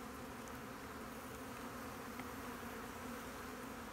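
Honeybees buzzing at a hive, a faint steady drone of many insects with no break.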